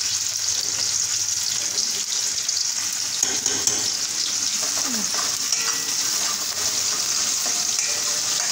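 Onions sizzle and fry steadily in a hot pan with toasted cumin, a continuous close crackling hiss with occasional stirring scrapes and no talk.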